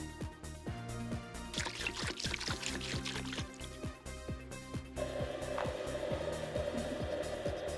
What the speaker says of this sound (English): Pour 1 liter of fresh cleaner into the material hopper